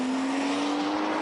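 A 2012 BMW 640i Gran Coupe driven hard through corners in Sport Plus with traction control off, a steady loud engine drone with faint tire noise running throughout, no talk.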